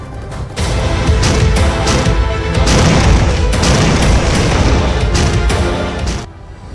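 Bombing in a Gaza conflict zone during Israeli airstrikes: a heavy, sustained rumbling boom roars loud and close for several seconds, with crackling debris bursts on top, before quickly dying away.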